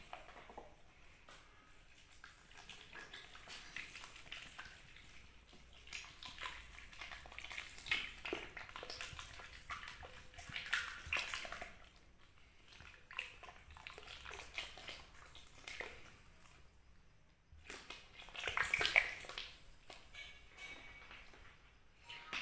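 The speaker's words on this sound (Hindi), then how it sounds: "सरसों ऑयल इसके अंदर हम डालेंगे 5 लीटर, जिसके अंदर ये चीज़ें हम पकाएंगे।" Five litres of mustard oil poured into a cooking pot while making a hair oil, giving a soft, steady liquid splashing and gurgling that swells near the end, quiet and close, with no voices.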